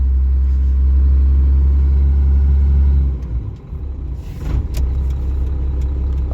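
Loud, deep rumble of a 500hp second-generation Cummins diesel truck engine idling near 750 rpm holds steady, then dips and wavers with some clunks and rustling before a steady low idle returns.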